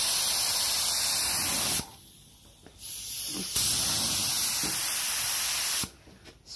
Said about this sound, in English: Spraying it on.